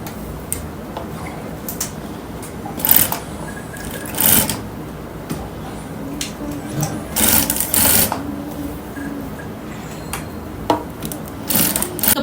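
A sewing machine stitches piping onto cloth in rapid mechanical bursts, its needle rattling in short runs separated by brief pauses and handling clicks, close up with no voices.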